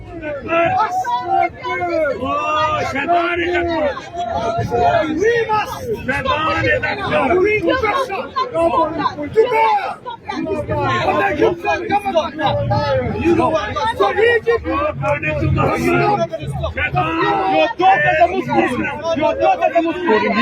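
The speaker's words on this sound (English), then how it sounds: "I'm just recording the crowd." Dense crowd chatter at a street protest, many overlapping voices talking and calling out close by in a continuous loud babble.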